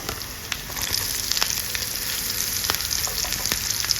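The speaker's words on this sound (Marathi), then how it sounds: "आपल्याला तेलामध्ये परतले आहे बटाटा" Potato pieces frying in hot oil for sabudana khichdi, a steady close sizzle with faint stirring ticks throughout and no talk.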